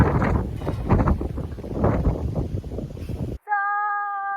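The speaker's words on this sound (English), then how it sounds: "wow, it's so windy" Strong gusty wind buffets the microphone outdoors on a rainy day, with loud low roaring surges that cut off abruptly, giving way to a steady electronic tone.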